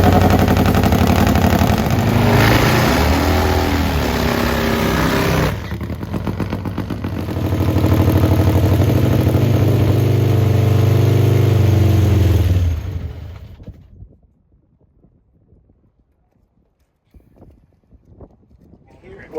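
A nitro-fuelled Harley bagger motorcycle idles loudly with a lumpy, uneven throb that surges midway, then cuts out abruptly, leaving near silence with a few faint knocks and talk.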